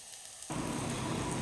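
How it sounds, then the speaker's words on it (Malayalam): Shallots and green chillies start sautéing in a pan for a Kerala okra tamarind curry, a soft steady sizzling hiss that begins abruptly after a moment of near silence and stays faint. "അങ്ങനെ നമ്മുടെ ചെറിയ ഉള്ളിയും പച്ചമുളകും നന്നായിട്ട് വഴറ്റിയെടുക്കട്ടെ"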